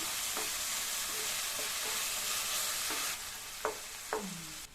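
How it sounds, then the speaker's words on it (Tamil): Two medium-sized tomatoes sauté in a pan for a potato-peas rice dish, with a soft, steady sizzle and several scraping spatula strokes that grow sharper near the end. "2 மீடியம் சைஸ் தக்காளியும் சேர்த்து இதையும் வதக்கிக்கலாம்"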